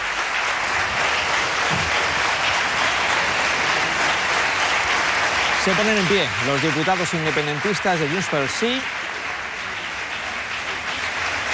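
Sustained applause from Junts pel Sí deputies rising to their feet in the Catalan parliament, a dense steady wash of clapping throughout while a commentator's voice talks over it.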